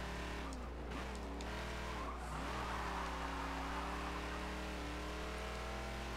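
Racing car tires squealing and skidding on track in Forza, with a steady engine drone underneath and a sustained screech of rubber that swells and holds, fairly faint.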